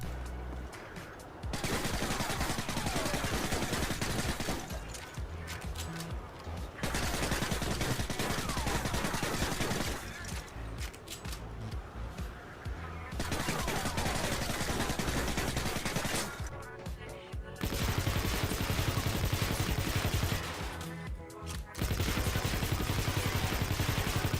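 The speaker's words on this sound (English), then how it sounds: "in MW2 the UMP has a very specific silence sound with the silencer on" Bursts of suppressed UMP submachine gun fire from the video game Infinite Warfare, several sustained rapid-fire strings separated by short pauses, loud and close with no talking.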